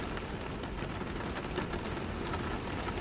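Steady rain pouring down, a dense, even hiss of drops on surfaces filling the whole stretch at moderate volume, with no voices or other sounds.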